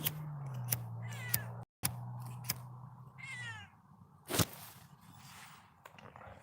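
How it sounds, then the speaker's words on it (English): A house cat on a farm gives several separate meows, some short and some drawn out, with a low hum underneath early on and a few sharp knocks and rustles between the calls. "You're a damn house cat."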